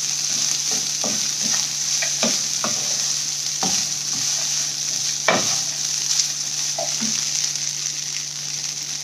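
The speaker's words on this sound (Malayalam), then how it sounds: "നന്നായിട്ട് മിക്സ് ചെയ്ത് കൊടുക്കുക." Lemon rice is stirred in a frying pan over medium flame, with a steady hiss of sizzling under irregular soft scrapes and clicks of the spoon, close and with no voices.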